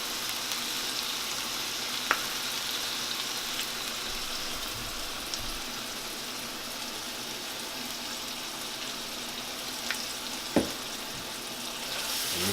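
Ground turkey fries in a pan with a soft, steady hiss that holds for several seconds, broken by a few sharp utensil taps, with no voices.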